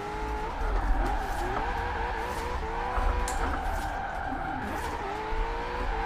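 A car sliding sideways with tire squeal and a gear grind in the Forza Horizon 4 racing game, played on a Logitech G29 wheel, as a steady engine drone under the skid.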